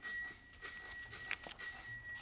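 A doorbell is rung hard and repeatedly in short insistent bursts of bright, sustained ringing, heard alone at moderate volume.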